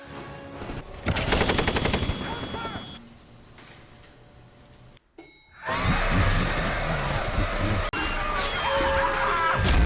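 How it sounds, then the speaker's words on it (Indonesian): Film gunfire from ambush troops in a battle scene: loud rapid bursts of automatic fire, a lull with quieter rumbling, then a sudden crash and renewed heavy shooting with chaotic effects layered over it. "Pasukan penyergap nembak menceleng buta."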